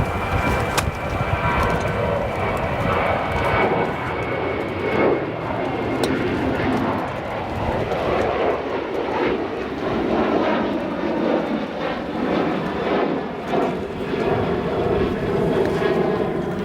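A Boeing 737 jet departs O'Hare on a gusty night, its broad engine roar steady and loud throughout, with wind buffeting and a voice talking over it.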